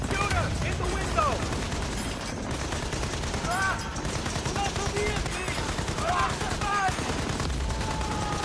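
Rapid machine gun fire crackles in the video game Battlefield: Bad Company, repeated bursts with whizzing effects and battle noise layered underneath.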